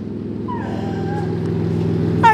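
Aftermarket exhaust on a BMW M4 revving to 3,000 RPM, a loud steady engine drone with rising tones, ending in a sharp burst.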